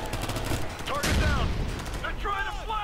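A grenade goes off in the video game Ghost Recon: Future Soldier, a single loud, broad blast near the one-second mark amid steady game noise, with voices talking around it.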